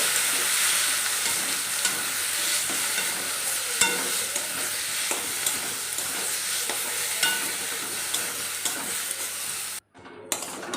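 Boiled ridge gourd and masoor dal fry with onion in a kadai, giving off a loud, continuous sizzle. Frequent stirring scrapes run through it, and the sound cuts out briefly near the end.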